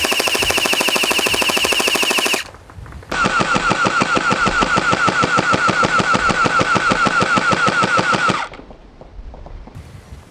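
Gelstorm gel blaster pistol firing in rapid full-auto bursts, a loud buzzing mechanical rattle for about two seconds, a short pause, then a longer sustained burst of around five seconds before stopping.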